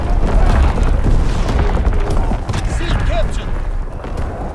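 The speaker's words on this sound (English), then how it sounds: "Incoming enemy artillery. Get to cover." Deep booming artillery blasts rumble through a Call of Duty WW2 domination match, loud dense low rolling explosions with scattered gunfire mixed in, alone without voices.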